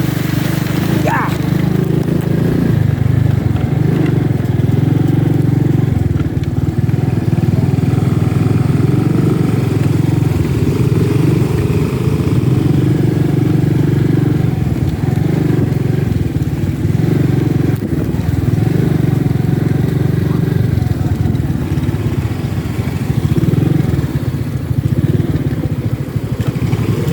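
A scooter-type city motorcycle engine drones loudly and continuously at close range on a mountain ride, with a low rumbling throb and occasional rattles, while people talk faintly beneath it.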